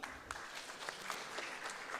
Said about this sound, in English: please kindly give us a big applause